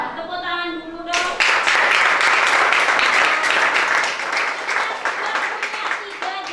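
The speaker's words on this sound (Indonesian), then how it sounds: "Tepuk tangan dulu dong." A class of students claps together: a sudden burst of applause after a brief moment of a voice speaking, then steady, close, fairly loud clapping that carries on to the end.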